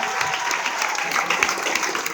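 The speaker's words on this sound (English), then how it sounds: "Let's give them all a round of applause." Audience applause for charity fundraisers, a steady dense wash of clapping hands lasting throughout, fairly loud and close with no pauses.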